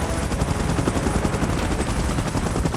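Helicopter rotor in the PUBG video game during a monster battle, a dense continuous chopping drone with rapid rhythmic beats, loud and steady with gunfire-like crackle mixed in.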